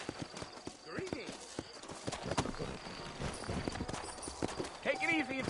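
Horse hooves clip-clop at a steady walking pace in the Red Dead video game, set in New Orleans, sounding faint beneath continuous character dialogue and light ambient town noise.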